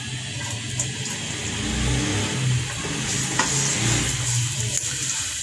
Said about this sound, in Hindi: इसे थोड़ा सा सोटे करेंगे